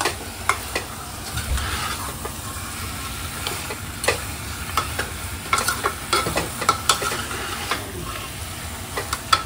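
Mutton stirred and fried in a pan sizzles steadily nearby, with repeated sharp spoon scrapes and clicks against the metal at an irregular rhythm.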